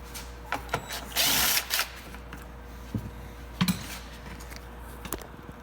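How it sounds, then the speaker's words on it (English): A T30 Torx bit backs out a bottom bolt on a Honda CR-V rear bumper cover, with short whirring tool bursts and scattered mechanical clicks and taps nearby. "removing this bolt here in the bottom with a T30 Torx bit"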